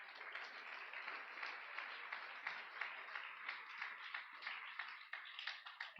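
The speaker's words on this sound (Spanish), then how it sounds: "Vamos a dar un aplauso a nuestro Padre Celestial." A church congregation applauds during a sermon, a steady, moderately distant patter of many hands clapping in a rhythmic, pulsing wash that holds evenly throughout.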